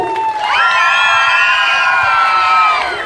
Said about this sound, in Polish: A jakieś piski zachwytu?